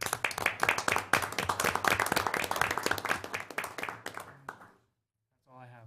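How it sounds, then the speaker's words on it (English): Applause from the room at a Waverly city council meeting, a dense patter of clapping at moderate loudness for about four seconds that ends abruptly, followed by near silence and a brief voice. "May they hear our applause."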